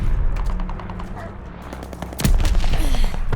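Death Machine minigun fire in Call of Duty Vanguard, a loud, sustained rapid burst that kicks in partway through and rolls on steadily over the game's background noise.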